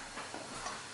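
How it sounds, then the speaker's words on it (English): Yogurt whisked in a bowl for a kadhi pakora dish gives a quick run of close, steady ticking clicks through one short second. "Why am I whisking yogurt?"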